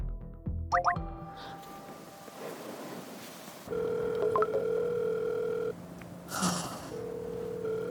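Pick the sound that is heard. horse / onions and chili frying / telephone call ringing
telephone call ringing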